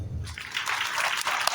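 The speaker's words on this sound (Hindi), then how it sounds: "तालियां बजाएं, मतलब तालियां बजाएं," A Python introduction class applauds: a short burst of many hands clapping that swells in after a brief pause and continues densely for just over a second.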